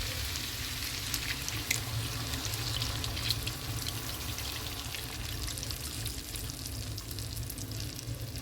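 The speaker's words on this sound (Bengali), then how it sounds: "চিকেনটা এভাবে ড্রাই হয়ে আসার পর আমি আমার মিক্স করা মিল্ক এবং ক্রিমের মিক্সটা আমি দিয়ে দিব" A milk and cream mixture is poured onto chicken in a hot pan, a steady sizzling, bubbling wash of sound that continues evenly and close throughout.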